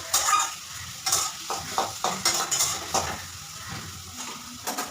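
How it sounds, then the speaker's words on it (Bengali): Garlic and green chillies frying in a pan for an egg dish, with a steady sizzle broken by repeated scraping stirs of a spatula against the pan, close and fairly loud, with no talking. "রসুন আর কাঁচা লঙ্কা দেওয়ার পরে এটাকে ভালো করে ভাজা ভাটা করে নিতে হবে"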